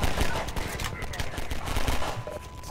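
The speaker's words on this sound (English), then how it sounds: "Synchronized gunfire." Rapid gunfire crackles in the co-op shooter Half-Life 2 Synergy, dense overlapping bursts of shots firing continuously and loudly, with game sounds mixed in.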